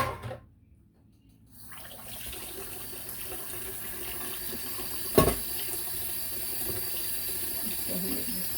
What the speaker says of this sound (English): Let me run some hot water.